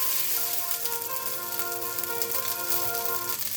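Seasoned noodles fry in a pan in a home kitchen, giving a steady dense sizzle with faint crackles and a soft tonal hum running underneath.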